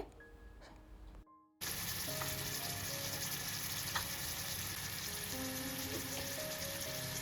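Crab pieces frying in hot oil with onion, garlic, bay leaf and cardamom, a dense, even hiss that holds steady after a brief gap at the start, with no voices.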